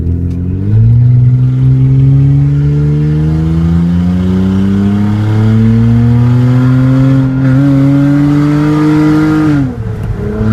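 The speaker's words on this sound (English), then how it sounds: "Alright, he's gonna do a full throttle." Hyundai Sonata with a muffler delete accelerating at full throttle, a loud raw exhaust drone rising steadily through the gears for about ten seconds, close to the car, then easing off at the end.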